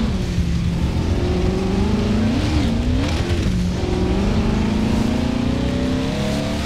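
A loud high-revving Koenigsegg Agera engine in the video game Forza Horizon 4 roars continuously, pitch rising and falling through gear changes, with faint tire squeal mixed in.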